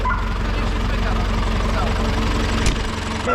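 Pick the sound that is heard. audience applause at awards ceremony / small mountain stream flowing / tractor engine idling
tractor engine idling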